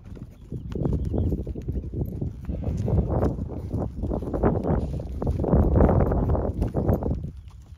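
A horse named Glade is ridden on a branding day, its hooves clip-clopping in a steady, close rhythm under light wind noise.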